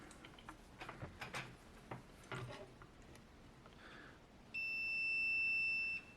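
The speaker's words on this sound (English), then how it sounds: "listen for the beep as we go in for the fuse." A multimeter's continuity beep sounds while a fuse is tested inside an infrared instant heater that has no power. After scattered handling clicks, a steady tone holds for about a second and a half near the end.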